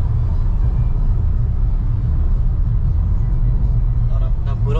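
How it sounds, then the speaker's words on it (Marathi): A 2025 Honda WR-V driven at full throttle along a good road, heard as a steady, dense low engine and road rumble that stays loud and even throughout. "साहेब फुल थ्रॉटल मध्ये पळवत आहेत।"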